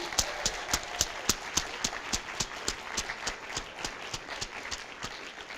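A church congregation claps through a sermon, in sparse, fairly regular claps that sound like a modest group applauding in a hall. A faint voice sits beneath the clapping.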